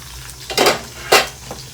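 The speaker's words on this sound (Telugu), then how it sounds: "కొద్దిగా ఆవాలు, కొన్ని పచ్చిమిర్చి, కొద్దిగా కరివేపాకు, మునక్కాడ ముక్కలు కూడా కడిగేసి వేసుకుందాం." Mustard seeds, green chillies, curry leaves and drumstick pieces go into a pan in two distinct bursts. Each lands as a loud rushing sizzle with a clatter, and quieter background noise fills the gaps between them.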